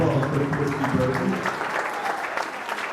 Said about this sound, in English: let's give a round of applause for Christy Burton.